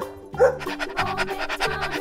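A dog pants close by in a rapid, even rhythm of breathy huffs, loud and clear with no other sound around it.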